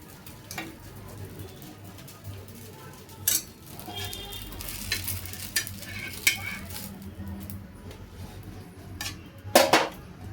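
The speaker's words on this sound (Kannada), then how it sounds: "ಸೊ ಸೆಟ್ ದೋಸೆ ಹಾಕ್ತಾಯಿದ್ದೀನಿ" Set dosa sizzling on a pan with scattered scraping, clinking spatula and utensil knocks, a soft continuous fry under occasional sharper metallic taps.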